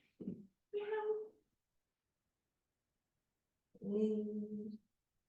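Two human voices imitate cat meows, separated by a pause: short drawn-out mews near the start, then a longer meow-like call after a few seconds of silence.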